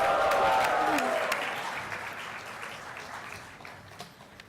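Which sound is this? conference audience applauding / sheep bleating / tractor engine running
conference audience applauding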